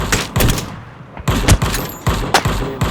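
Gunfire in the video game Ring of Elysium: loud, close bursts of shots, a short rapid volley, then a pause and several more single reports in quick succession.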